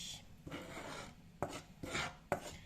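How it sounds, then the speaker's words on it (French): Flour toasting brown in a pan for sellou, stirred constantly with a utensil giving dry scraping sweeps and a few sharp knocks against the pan, close and quiet, no speech. "Donc, sans cesse mélanger."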